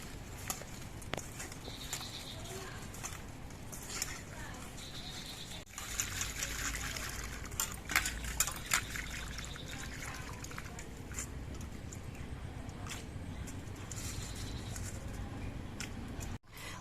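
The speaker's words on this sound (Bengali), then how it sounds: "মাছ ধোয়ার সময় একটু নুন দিয়ে মাছগুলোকে ধুলে পরে মাছগুলো খুব সুন্দরভাবে পরিষ্কার হয়ে যায়" Fish being rinsed in salted water by hand, a steady trickling and sloshing of water running through the whole stretch with a few louder splashes and handling knocks, close by and with no talk.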